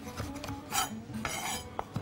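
A knife cuts chicken gizzards on a board, close, uneven chopping taps and scrapes with a few light metallic clinks, no talking.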